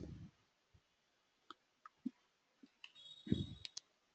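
A computer mouse clicking, a series of short, sharp, close clicks spread irregularly across a few seconds in an otherwise quiet room.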